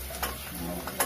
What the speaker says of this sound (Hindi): अब हम ये सब्जी इसी कुकर में छौंक देते हैं